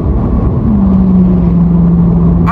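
A truck roars past at highway speed, a loud steady engine drone with a falling pitch as it goes by.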